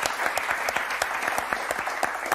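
Studio audience applauding on a French television game show, a steady dense patter of many hands clapping at moderate level with a few sharper individual claps standing out, no voices over it.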